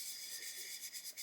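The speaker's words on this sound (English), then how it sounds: "we're sanding away at this primer" Fine abrasive sanding of primer on a 1/12 scale Italeri Lancia Stratos model car body, a faint, steady high rasp with light rhythmic strokes toward the end.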